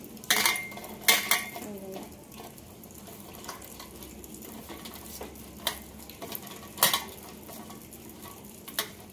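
Rohu fish pieces being rubbed with salt and turmeric in a bowl, giving soft wet handling noises broken by several sharp clinks of metal dishes and utensils, with no one talking.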